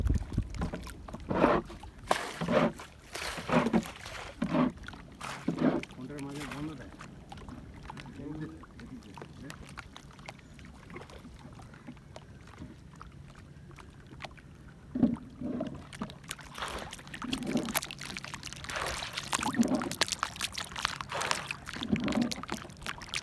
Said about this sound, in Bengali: ওইদিকে নিপেন কাকা নৌকা চালাচ্ছে।